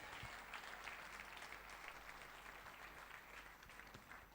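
Church congregation applauding during a sermon, a dense, steady wash of many hands clapping at once, sustained and fairly distant without a break.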